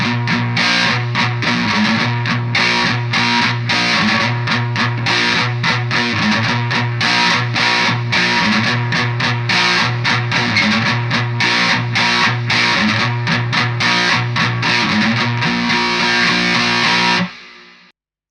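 A heavily distorted electric guitar plays the opening riff of a song at a slowed tempo. It chugs steadily and loud for about seventeen seconds before cutting off abruptly, with no voice over it.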